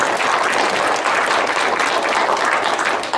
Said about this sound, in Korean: 박수 한번 치시죠